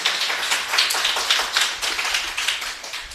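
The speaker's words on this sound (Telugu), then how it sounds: "గట్టిగా చప్పట్లు కొట్టండి." A church congregation claps hands loudly and rapidly together at a Good Friday worship service, a dense, steady rhythmic patter of many palms that carries on throughout without a break.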